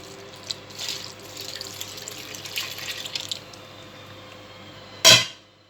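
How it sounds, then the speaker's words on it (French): Water runs steadily into a bowl of flour and egg dough for migliaccioli, a soft continuous pour that fades out before a sudden loud splash and clatter close to the end. "Il va se mélanger ensuite plus tard quand on va mettre l'eau, ce qui va arriver dans quelques secondes."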